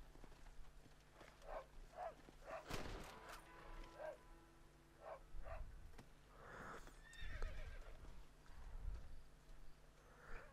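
A horse in the video game Red Dead Redemption gives repeated whinnies and snorts over clip-clopping hooves, with a loud gunshot-like crack partway through, faint background game sounds, and a voice heard at times.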